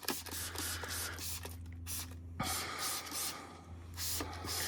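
Bursts of QUIVR BREAK wheel and tire cleaner are sprayed onto and into the barrel of a car wheel, a series of close, broad hissing pulses with a brief pause midway over a steady low hum.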